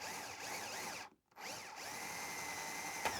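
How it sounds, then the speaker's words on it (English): A power drill bores a cable hole into the body of a custom-built electric guitar, whining steadily and loudly with a brief pause around the middle before resuming. "which I'll do by taking the drill out"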